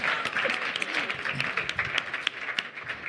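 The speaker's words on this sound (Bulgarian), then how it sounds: "отново аплодисменти за Орлин Павлов!" Steady audience applause fills an awards ceremony, a dense, moderately loud rattle of many hands clapping at once with no break.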